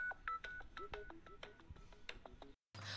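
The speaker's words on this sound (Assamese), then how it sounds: "ফোনটো আহিছে" A telephone gives off a rapid series of short electronic tones, brief beeps following one another quickly and faint overall, ending in a moment of silence and then a burst of noise.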